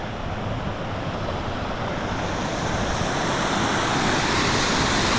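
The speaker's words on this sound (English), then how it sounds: "Nice waterfall for you there, Joe." A waterfall roars as a steady, broad wash of rushing water mixed with wind noise, heard up close on a mountain ultramarathon trail, continuous and fairly loud with no talking.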